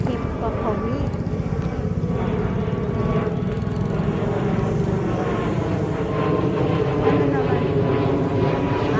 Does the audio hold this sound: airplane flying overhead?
yes